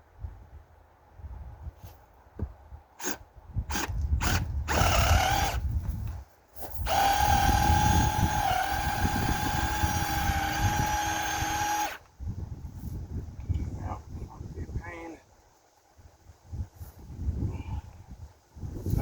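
A power drill bores into a garden tomato support. After a few knocks it whirs in a short burst, then runs steadily for about five seconds close by, followed by softer handling noises.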